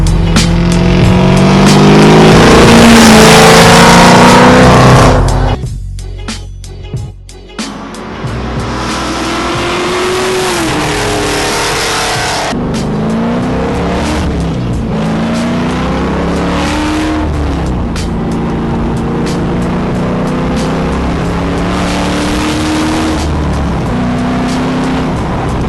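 A 6.0L LS2 Trans Am, freshly tuned, roars loudly as it accelerates hard, with a brief squeal of tires and a rising then steady engine drone heard up close from inside or near the car.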